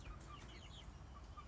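Hens and a rooster clucking inside a small greenhouse, faint scattered calls over a steady low rumble.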